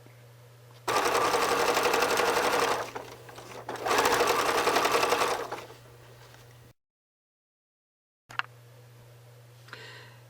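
A sewing machine stitches a seam on a fabric bag, running in two long steady bursts with a short pause between, then falling quiet apart from a few light clicks near the end.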